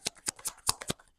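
Tarot cards being shuffled and pulled for a reading: six crisp, papery riffling bursts spaced about a fifth of a second apart, close and clear with no talking.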